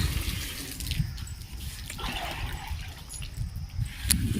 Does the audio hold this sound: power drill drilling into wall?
no